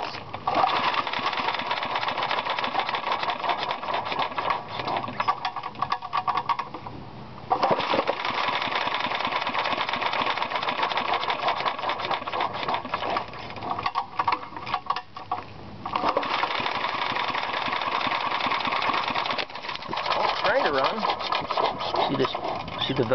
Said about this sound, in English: so we'll see if I can get it started and run with no valve spring